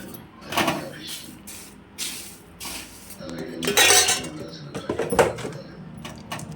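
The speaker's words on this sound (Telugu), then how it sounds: "నేను మొత్తం దీంట్లో తిప్పేసుకుంటున్నానండి కలుపుకోవడానికి ఈజీగా ఉంటుందని" Puffed rice mixed with roasted peanuts is stirred in a bowl, giving irregular dry rustling scrapes and light clinks that swell louder midway, with no talking.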